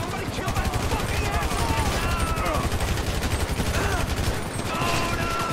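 Dense automatic gunfire in Grand Theft Auto V, loud continuous rapid bursts with constant game noise, while voices shout over the shooting.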